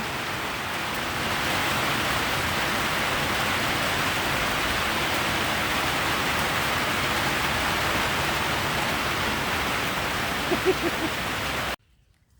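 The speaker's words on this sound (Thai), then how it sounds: "ฝนตกฝนตก" Steady heavy rain pours outdoors in Khao Yai, a dense continuous hiss that starts a second in and holds loud and even for about ten seconds before cutting off abruptly, with a faint brief sound near the end.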